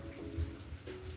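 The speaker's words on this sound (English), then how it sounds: "downpour to drizzle to downpour, and it's been doing that since 9 a.m. when it started raining." Steady rain falling outdoors during an all-day on-and-off downpour, a constant soft hiss of drops with no breaks, moderately close and fairly quiet.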